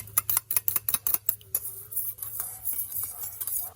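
A utensil briskly mixes chowmein ingredients in a bowl, making a rapid series of sharp metallic clinks and scrapes that are dense at first and then settle into softer, irregular stirring.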